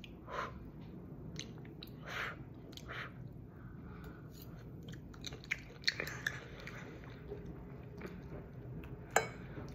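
Someone chews noodles close to the microphone: soft, wet mouth sounds and quiet crunches with occasional light clinks of bowl or cutlery, faint over a low steady hum.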